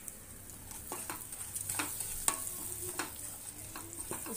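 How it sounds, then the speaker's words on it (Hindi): Bread crunch stirs and fries in hot refined oil in a pan, a soft continuous sizzle broken by repeated scraping strokes of a spoon against the pan. "तो ये तेल गरम हो गया रिफाइंड वाला, अब इसमें हम ब्रेड क्रंच डाल देते हैं और अच्छी तरीके से इसको हम"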